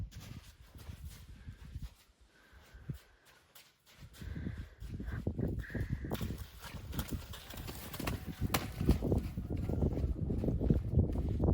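An injured mustang's hooves clop and shuffle on the ground during halter gentling, irregular steps near and moderately loud, with a brief quiet pause partway through.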